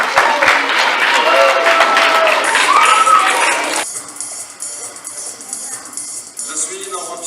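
Audience applause at a swimmer's conference, a full burst of clapping for a few seconds before it cuts off abruptly, followed by quieter room sound with faint talk.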